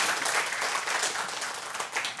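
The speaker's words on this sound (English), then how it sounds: "Okay, give yourself some applause" An indoor audience at a product demonstration claps together in a brief, dense burst of applause, moderately loud and even throughout.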